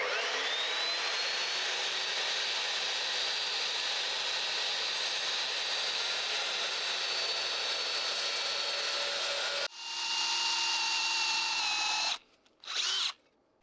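A power tool cuts a small aluminum flat bar for a scoop bracket on an E46 M3, a loud, steady, whining grind lasting about ten seconds, then a brief louder pass and two short bursts before stopping.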